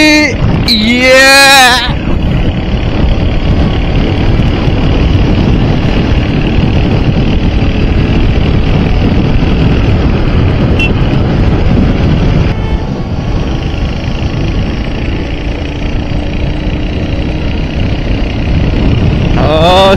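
Royal Enfield Bullet motorcycles riding along a six-lane highway still under construction, with a loud, steady engine drone and heavy wind rush throughout and a brief horn-like tone near the start.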